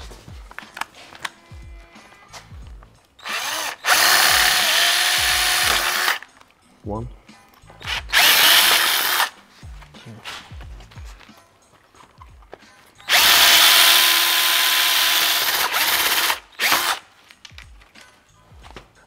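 A power drill bores out rivets on a Mercedes W212 front grille in several loud, close whirring bursts of a few seconds each, separated by quiet handling clicks and brief talk.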